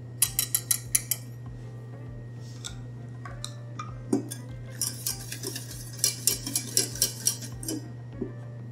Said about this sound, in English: So just dissolve correctly the base of yolks, cornstarch, and warm caramel.